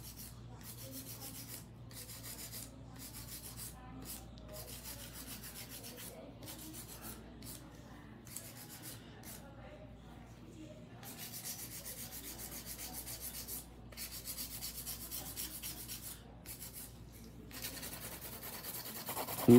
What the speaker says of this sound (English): So I'm just gonna hand file a little bit.